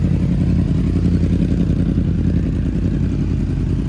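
A tuned sport motorcycle engine running, a 2023 Honda CBR 1000RR or Yamaha R1 warming up, with a loud, steady low idle rumble and rapid firing pulses close by, holding level without a clear rev rise.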